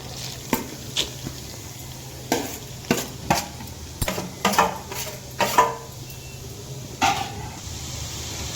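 Grated carrot goes into a hot pan for a simple carrot fry, with a soft continuous sizzle broken by about a dozen sharp scrapes and clinks of a spoon stirring against the pan, close and alone.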